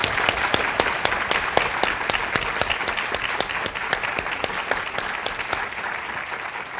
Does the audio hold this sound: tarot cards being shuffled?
no